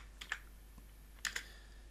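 Keys clack on a computer keyboard in a quiet room, two short pairs of quick, crisp taps separated by a pause, faint and close with a low hum beneath.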